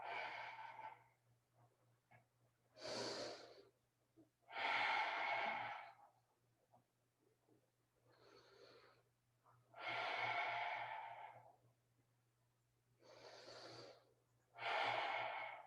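Slow, deep breathing in and out during a gentle exercise flow, each breath a long, audible airy rush separated by quiet pauses, close and alone with no talking.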